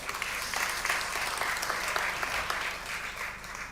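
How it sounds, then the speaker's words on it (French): Conference audience in Casablanca applauding as a speaker is introduced, a sustained, even roar of many hands clapping throughout, with no voices over it. "sous vos applaudissements, professeur Nabil Armili, là"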